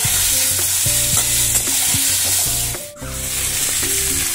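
Potato and eggplant pieces stirred with spices in a frying pan, a sizzle broken by repeated scraping strokes of a spatula, close and fairly loud.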